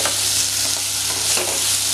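Kara dosa masala being stirred and fried in a pan: loud, continuous close sizzling with spoon scrapes pushing the mixture around, no voices.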